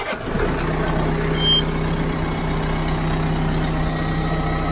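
A Buffalo Turbine debris blower starts up close by, its engine turning over and settling into a loud, steady idle with a rumbling low drone and a few brief higher tones.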